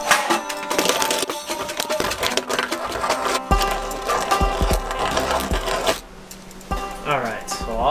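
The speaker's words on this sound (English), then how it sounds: "we want to deburr it" Drilled holes in a 2002 Honda CR-V aftermarket spoiler are deburred by hand, giving a series of close, scraping, clicking tool sounds in irregular bursts, with someone talking intermittently.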